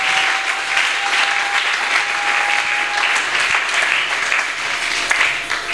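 A church congregation applauds together in a dense, steady stream of clapping that carries through the whole stretch, with a faint sustained tone underneath.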